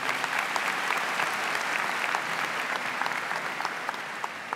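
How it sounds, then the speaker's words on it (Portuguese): A large audience gives a round of applause for a bishop at a jubilee thanksgiving Mass. The clapping is dense and steady, continuous from start to finish, with no voices heard over it. "Queremos saudar o nosso irmão Bispo Dom Altieri, aqui presente também, mais uma vez, com uma salva de palmas."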